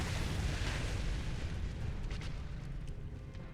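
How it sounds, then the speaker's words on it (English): A deep, rumbling explosion from the Quelaag boss in Dark Souls Remastered booms loud at first, then decays into a lingering, crackling roar. "Well, that's an explosion"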